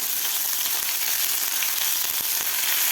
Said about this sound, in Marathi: त्याला सुद्धा आपल्याला एक मिनिटभर परतून घ्यायचं आहे